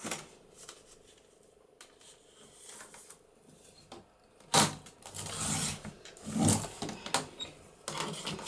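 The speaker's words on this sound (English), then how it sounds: "So I'm going to cut this piece at 5 inches." Paper for a journaling booklet is cut with crisp, close snips and rustles, quiet at first and then louder in several bursts during the second half.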